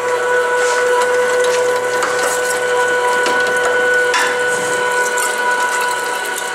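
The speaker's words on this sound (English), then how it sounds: "Turn the grinder on." An electric meat grinder grinds cubed, rinsed venison with a loud, continuous mechanical whir and rattling gear noise close up, without talk.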